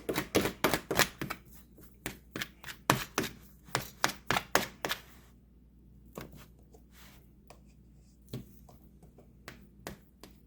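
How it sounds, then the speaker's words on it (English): Boiled eggs, peeled, being chopped in a bowl with the smoked chicken for a chicken salad: a quick run of sharp, close knife taps for about five seconds, then a few scattered taps with pauses between them. "So now we're going to chop the eggs up in there."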